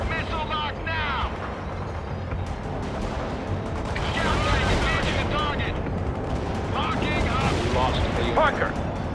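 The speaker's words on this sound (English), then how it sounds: "Laying down suppressing fire." Suppressing fire in the real-time strategy game World in Conflict, with sustained gunfire and mechanical battle noise running throughout, swelling louder past the midpoint, while radio-style voice lines come and go over the combat.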